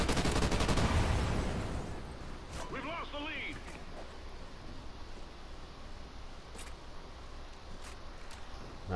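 M27-IAR light machine gun firing in a video game, a rapid burst in the first second or two that fades, followed by quieter game sounds with a few sharp clicks and someone talking.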